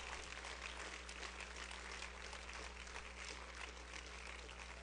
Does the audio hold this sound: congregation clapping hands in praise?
yes